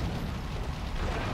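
Explosion in the Grand Theft Auto III remaster, a steady dense roar of rumbling noise with low booming weight, loud and sustained for the whole moment with no voice over it.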